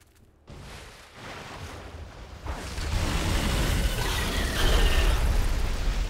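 Artillery explosions in the strategy game Beyond Earth: a sudden boom opens a rolling, rumbling blast sequence that builds into a heavy, sustained roar of detonations, loud and close, with no talking.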